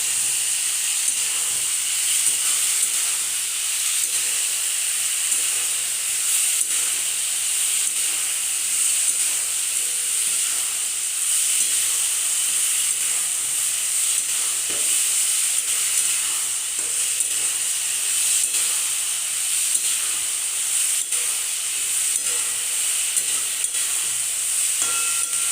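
Fish curry with eggplant, ridge gourd and potato simmering in a pan after salt is added, a loud, steady hiss of sizzling and steam with faint stirring underneath, continuous and close.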